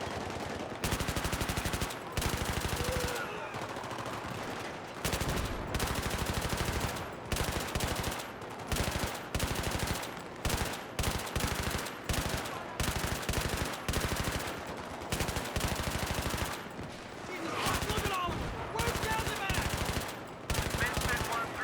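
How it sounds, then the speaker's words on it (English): Light machine gun fire in Battlefield 3, sustained loud bursts of rapid automatic shots nearly filling the stretch, with only brief gaps between volleys and dense battle noise layered underneath. "I love me a good LMG, baby. Nothing quite like putting down walls of lead at a onrushing horde."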